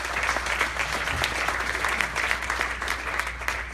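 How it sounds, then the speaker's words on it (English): An audience claps steadily in a hall during an environmental justice evening event, a dense, moderately loud round of applause sustained throughout without voices standing out. "can we just give Cheryl a round of applause for keeping moving?"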